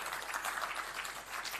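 A symposium panel discussion audience claps steadily, a dense wash of applause with no voices over it.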